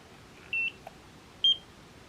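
A Nira skincare laser emits two short, high electronic beeps about a second apart, clean and close against quiet background hiss, with a faint click between them.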